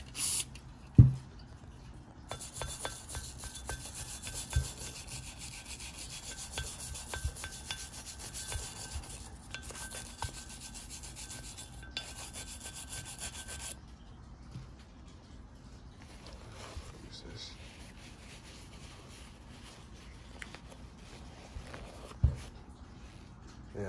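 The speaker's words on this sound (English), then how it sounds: "follow right up with the metal brush and just start scrubbing around" A metal wire brush scrubs and rasps against an engine's upper and lower intake after a soak of brake cleaner spray, a steady gritty scraping that runs continuously at moderate level with a few sharp clanks and pauses.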